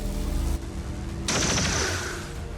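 XCOM 2: War of the Chosen gunfire rings out as a soldier takes a shot, a loud burst of rapid fire erupting over steady game background sound and continuing briefly before fading.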